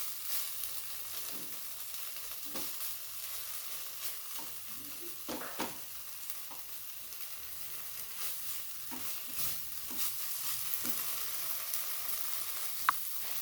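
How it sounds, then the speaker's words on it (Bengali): Soybean chunks sizzling in a pan as they fry, with a steady hiss and intermittent scraping of a spatula stirring them, close and alone. "আমি এটা বেশ ভালো করে সয়াবিনটা কষিয়ে নেবো।"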